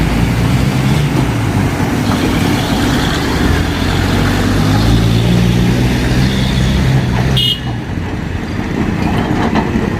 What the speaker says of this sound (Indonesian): mobil ini baru tiba lagi bawa muatannya.